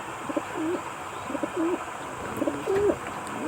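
Soft, low coos from a grizzle pigeon repeat three times at an even pace, with faint chirps from other birds in the background.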